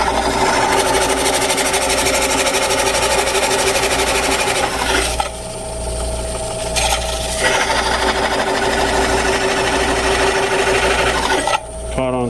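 Wood lathe coring a large walnut blank, a loud steady mechanical whir with a rhythmic rattling grind from the coring tool, cutting out briefly midway before resuming, with a voice talking over it.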